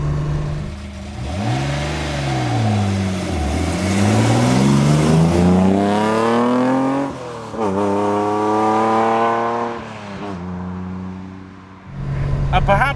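A modified Datsun 240z engine revs hard while being driven, loud and close, pitch climbing and dropping through several gear changes before easing off near the end.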